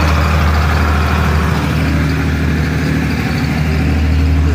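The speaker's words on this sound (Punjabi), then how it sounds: "ਨਾਲ ਜਨਰੇਟਰ ਚੱਲ ਰਿਹਾ" A generator runs steadily beside festive lighting set up for a 12 Rabi ul Awal celebration, a loud, continuous engine drone with a low hum that stays constant throughout, close to the microphone and with no talk.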